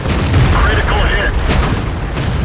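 In World of Tanks, a tank shell slams into the player's tank with a loud, heavy boom that settles into a low, sustained rumble, with a voice speaking over it.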